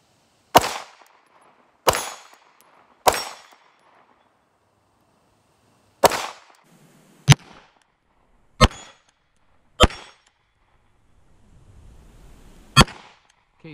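Eight sharp Canik TP9SFX pistol shots ring out at an outdoor range, each with a bright ping off AR-500 steel targets, spaced irregularly one to three seconds apart with quick fading tails.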